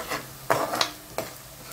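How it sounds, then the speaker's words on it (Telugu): Onions frying for keema give a soft sizzle, broken by a few scraping stirs of a spatula in the pan, close and fairly quiet. "ఉల్లిపాయలు బాగా వేగిపోయినాయి"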